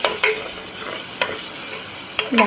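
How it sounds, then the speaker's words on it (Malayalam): Ginger-garlic paste sautéing in a pan over a low flame, a soft steady sizzle with a few sharp scrapes of stirring at intervals, close and alone. "നമുക്കത് ഫ്ലെയിം കുറച്ച് വെച്ചിട്ട് ഇഞ്ചി വെളുത്തുള്ളി പേസ്റ്റ് ഇട്ട് കൊടുക്കുക. എന്നിട്ട് നല്ലപോലെ വഴറ്റി കൊടുക്കുക."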